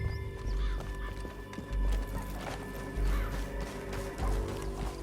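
A horse in Red Dead Redemption 2 gallops with rhythmic clip-clop hoofbeats and whinnies, the pounding thuds recurring in heavy bursts through the stretch, close and fairly loud.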